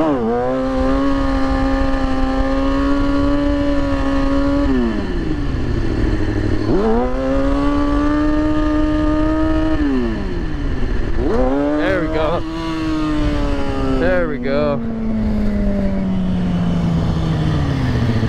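A manual car's engine pulls away using only the handbrake, with no help from the foot brake, and revs climb and fall in several smooth strokes as it gets going. A loud, close engine note sits under a steady low rumble.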